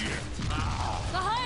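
A weapon reload in Left 4 Dead 2, a quick mechanical clack and ratcheting click sequence, short and close, over a low background hum.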